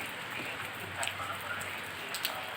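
Steady rain drums on a metal sheet roof, a dense, even hiss of drops with a few sharper taps standing out, continuous and close, with no voices.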